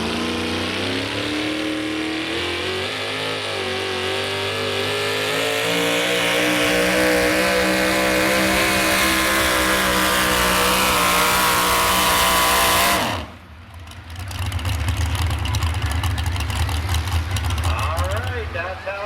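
A test puller truck at a truck and tractor pull revs its engine hard, a loud sustained roar climbing in pitch for about thirteen seconds, then cuts abruptly before a lower rumbling resumes as it idles.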